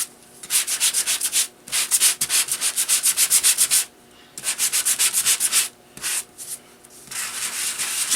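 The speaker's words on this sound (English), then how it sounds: "I'm going to take my Coordinations sand block, and we're just going to rub it over top of the raised areas." A sanding block rubs over raised areas of embossed paper in quick back-and-forth strokes, a close, scratchy rasping in bursts separated by short pauses.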